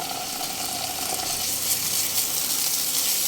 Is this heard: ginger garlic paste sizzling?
yes